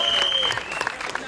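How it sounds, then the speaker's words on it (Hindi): Applause from an audience of media persons at a lively promotional game event, dense clapping running throughout the short stretch with a steady tone and voices mixed in over it. "जोरदार तालियां"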